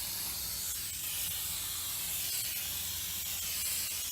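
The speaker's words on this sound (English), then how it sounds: "The idea being that we just spray it on liberally to both surfaces." Quick Grip contact adhesive sprayed steadily from an aerosol can onto wood surfaces, a continuous close hiss with no pauses and no voices.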